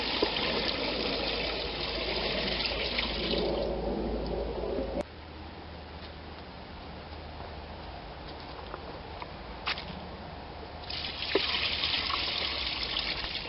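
Fresh rinse water pours from a bucket into a small portable mini washer inside an RV, a loud continuous gush that eases into a softer trickle before rising again near the end.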